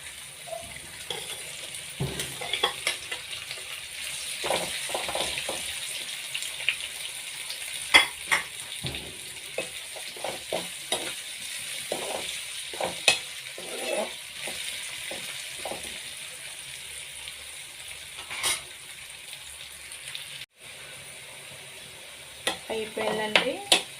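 Ivy gourd pieces fry in a pan with onion and turmeric, giving a soft continuous sizzle broken by scattered stirring scrapes and light clinks, with no one talking.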